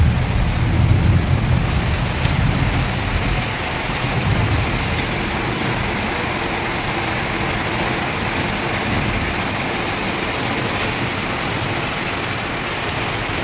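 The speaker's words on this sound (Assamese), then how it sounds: "আৰু কিন্তু এই বৰষুণখিনি দিছে" Heavy rain falls in a continuous broadband hiss, with a low rumbling swell near the start that fades into an even, close wash of rain for the rest of the stretch.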